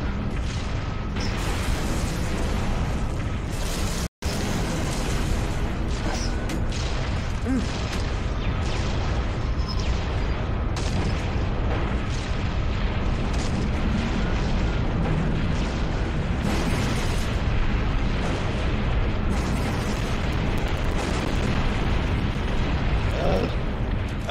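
Rocket explosions in the video game Halo Reach during a Firefight match, a long stretch of loud repeated booming blasts and battle noise, with voices talking over the chaos and one sudden dropout early on.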